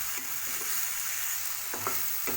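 Mango pieces stirred in a frying pan over a medium gas flame, a steady sizzle beneath a few close scraping strokes of the spoon near the end, with no voices.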